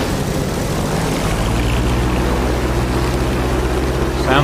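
A P-47 Thunderbolt propeller engine runs in the DCS World flight simulator, a loud, steady droning roar with a low throbbing hum that holds constant throughout.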